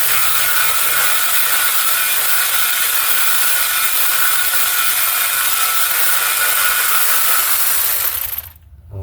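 A ratchet with an 18 mm deep socket loosens a ball joint bolt on a 2009 Dodge Journey, giving a loud, steady, fast clicking buzz that runs continuously and cuts off near the end.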